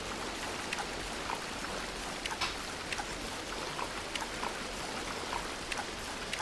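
River water in the Among Trees video game, a soft, continuous babbling trickle with scattered light droplet splashes, quiet and steady with no voices.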